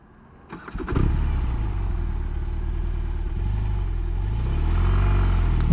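A BMW R18 motorcycle's large boxer twin engine runs loud and close after a few clicks, its low rumble wavering and sagging as it struggles near stalling.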